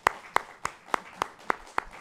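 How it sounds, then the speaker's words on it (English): Evenly spaced hand claps, about seven in two seconds, follow the close of a journalism presentation in a remote meeting. The claps are fairly faint and sound like a small group or a single person rather than a full crowd. "I hope you'll join me in a round of applause."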